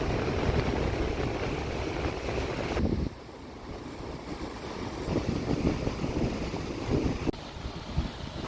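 Wind sweeps across the Moffat Headland lookout above Shelly Beach in Caloundra, a steady broadband rush that dips sharply for a moment, then builds back to a strong buffet.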